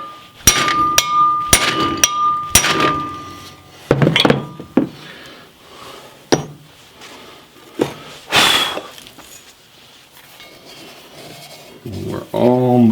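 Metal-on-metal hammer blows drive a bearing race into a Pontiac 9.3 rear axle third member. A few sharp, loud strikes are followed by sparser hits and a louder ringing blow, and a short voice comes in at the end.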